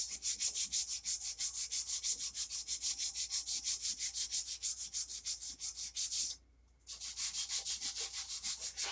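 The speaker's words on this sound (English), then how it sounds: "Do a little bit of wet sand here, around some water here. And we're going to sand in the opposite direction of our belt." A steel knife blade is wet-sanded by hand with water, giving a steady run of close, rhythmic back-and-forth rasping strokes, several per second, broken by one short pause before the strokes resume.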